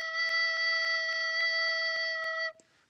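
A recorder holds a steady low E, a pure sustained tone lasting about two and a half seconds, with faint regular ticks through it, then cutting off cleanly into near silence.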